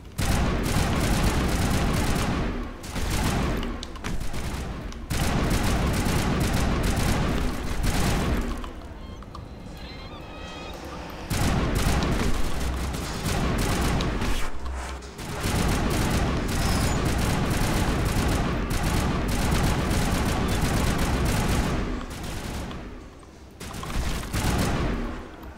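Sustained gunfire in the video game Mass Effect: long, dense bursts of automatic shots and heavy booms, broken by a few brief pauses, loud and close throughout, with occasional talking underneath.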